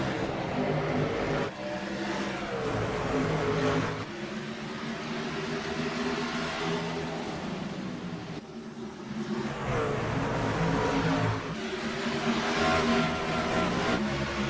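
NASCAR trucks racing at Bristol Motor Speedway in the iRacing game: a steady, loud drone of many engines roaring together at the green-flag start, rising and falling slightly without pause throughout.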